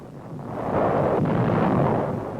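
Naval bombardment off the Kerama Islands in 1945 rolls out as a loud, continuous roar of explosions that swells and holds with no voices.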